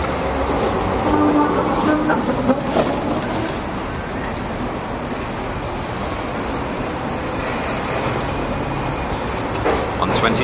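A Hong Kong tram rumbles past with steady rolling noise and faint rail clatter, broad and continuous, with some voices faintly mixed in.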